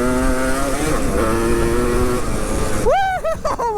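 A three-wheeler dirt bike engine revs hard while being ridden, holding a loud steady drone with rising pitch, then surging sharply in a quick series of throttle blips near the end, close and dominant.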